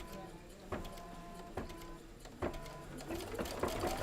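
An embroidery sewing machine stitches out a Kimberbell Shout Hooray design, whirring steadily and close by. Sharp mechanical clacks cut in at regular intervals of just under a second, with faint background voices.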